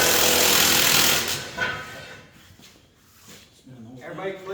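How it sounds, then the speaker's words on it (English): A power tool cuts through the exhaust manifold pipe on a van in a speed shop, giving a loud harsh grinding burst for about a second before it fades into quieter clatter and workshop noise. "so we can cut this manifold off"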